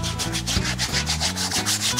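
Denim jeans scrubbed by hand in water, a close, rhythmic rubbing with about a dozen quick strokes, steady and loud, with no talking.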